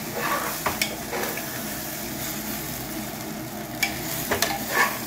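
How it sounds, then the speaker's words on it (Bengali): Food stirred and fried in oil in a pan on a large burner, a steady close sizzle punctuated by several sharp spatula scrapes and knocks against the pan, loud and without voices. "জাস্ট তেলে নাড়াচাড়া করে নেওয়া"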